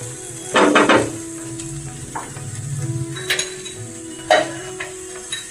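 Sugar being stirred into a vegetarian banana flower curry in a pan: soft sizzling under a low hum, with a few scraping strokes and light clinks of a spoon against the metal.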